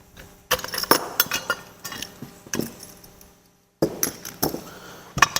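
Metal clamp being removed from a pump during a FLUX F580 Viscopower bearing and clutch repair: a series of sharp metallic clinks and clicks in uneven bursts, close by, with a short silent gap midway.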